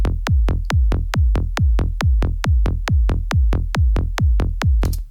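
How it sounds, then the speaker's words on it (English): A psytrance kick drum and bass loop, punchy evenly spaced booming kicks with a deep bass tail, about four per second, steady and loud throughout with no voices. "which is just a psychedelic trance or progressive psytrance kind of kick bass"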